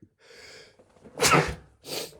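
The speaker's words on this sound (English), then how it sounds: "I might need to sneeze in a sec." A single sharp sneeze from a man, preceded by a quick breathy intake, followed by a short exhale, close and loud in a quiet room.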